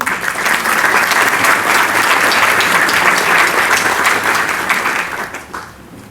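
A large audience at a remembrance event in Peru gives loud, dense, sustained applause that holds strong for about five seconds before tapering off at the end.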